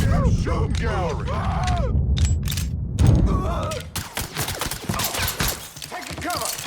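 Gunfire in the Mafia 3 video game: rapid bursts of shots and sharp impacts crackle through the scene, with shouted voices over the clatter early on before denser firing takes over.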